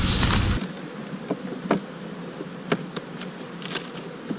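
Dense, steady buzzing of many bees on an open beehive frame on a warm winter day, close and continuous, with a few sharp knocks and clicks from handling the hive.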